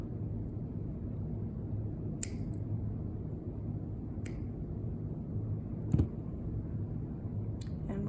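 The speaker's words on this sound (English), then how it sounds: "And then we're gonna cut the ends off." Wire ends on a fairy treasure pendant are snipped off, a few sharp, isolated clicks spaced seconds apart over a quiet, low room hum.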